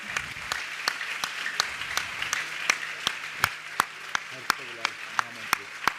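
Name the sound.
audience applause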